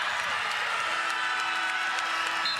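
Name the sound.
basketball fans cheering and applauding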